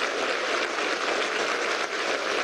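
Dense, steady applause filling the chamber of Venezuela's National Assembly at its session installation, continuous clapping of a large crowd without speech.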